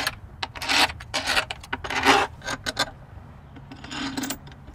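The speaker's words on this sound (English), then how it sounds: "So let's grab our intake bolts and get these hand tightened." Intake manifold bolts being threaded in by hand during a performance intake manifold and gasket install, giving a run of short metallic rubbing and rasping bursts at close range, irregular and fairly quiet with brief pauses between.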